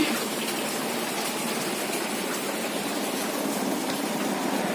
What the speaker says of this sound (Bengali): এখন আবার বৃষ্টি প্রচণ্ড জোরে পড়ছে বৃষ্টি